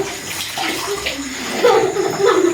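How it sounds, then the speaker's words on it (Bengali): Water runs steadily from a tap at a children's birthday gathering as the kids wash their hands, a continuous close splashing stream that swells slightly louder toward the end. "হ্যাঁ হাত ধোয়াই আগে"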